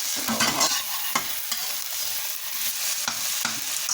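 Egg mixture and bacon sizzle in a frying pan while being stirred, a constant close frying hiss broken by several scraping sweeps of a utensil across the pan, with no talking.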